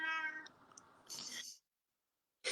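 A house cat meows twice, close and clear, a drawn-out cry followed by a shorter higher one, then silence before another sound begins at the end.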